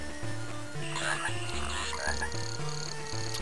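A frog croaks in the E.T. video game on Game Boy Advance, with repeated low electronic croaks in a steady rhythm over a looping chiptune melody. No one speaks.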